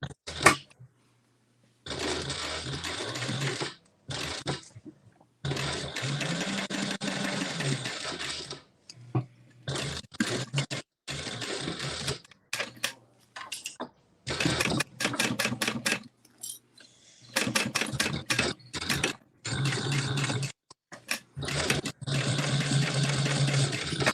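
A sewing machine top stitches the bottom edge of a classic zip-around wallet, running in repeated close, loud bursts of rapid stitching with short pauses between runs.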